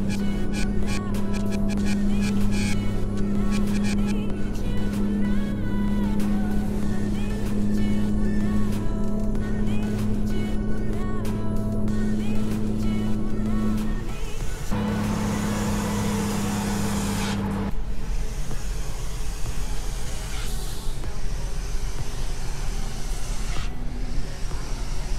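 A truck engine in Euro Truck Simulator 2, played on an Eldorado map with a G29 wheel, drones steadily and loud with shifting revs, while someone talks over it.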